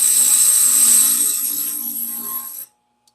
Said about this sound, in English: Dressing your stone cleans it up just like anything else.